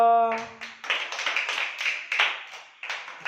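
A small group claps hands in uneven, sparse bursts after a brief tone at the start, the individual claps distinct and fairly close, with no talking.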